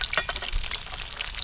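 Food frying in a pan, a close, steady sizzle with crackling pops and brief stirring noises, no voices.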